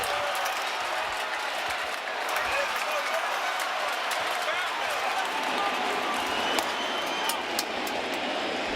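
A stadium crowd at a Cardinals-Yankees baseball game in the Bronx roars and claps after a home run, a broad distant wash of cheering throughout with commentary voices heard over it.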